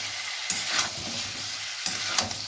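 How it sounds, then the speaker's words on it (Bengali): Chicken and potatoes fry in hot oil with spices, a steady broadband sizzle running throughout while a utensil stirs and scrapes the pan in a few distinct strokes, close and moderately loud with no talking. "এবারে আমি চিকেন আর আলুটা একসঙ্গে দিয়ে দেব। মশলার সঙ্গে ভালো করে মিশিয়ে নিচ্ছি।"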